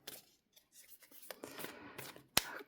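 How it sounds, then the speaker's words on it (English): Tarot cards being shuffled and laid out during a reading, soft intermittent papery slides and flicks up close, ending with a sharp snap as a card lands, quiet throughout with no talking. "Now let's add some cards here."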